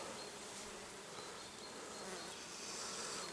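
Steady buzzing hum of bees around sumac, a dense continuous drone that swells slightly toward the end, with no voices.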